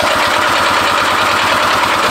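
Old barn-find Harley Davidson golf cart engine cranking over, a loud steady rhythmic chugging with a low pulsing beat that continues without pause.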